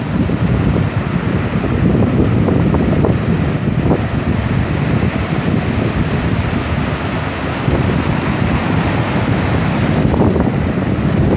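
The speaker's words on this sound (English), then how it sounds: "Bigger waves right now." Ocean waves surge and break steadily on a beach in Spain, a loud continuous roar of surf with wind buffeting the microphone throughout and no voices.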